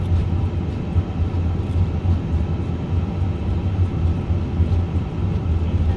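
An Airbus A350 roars with reverse thrust during landing rollout in Microsoft Flight Simulator 2024, a steady loud low engine rumble with no talk over it.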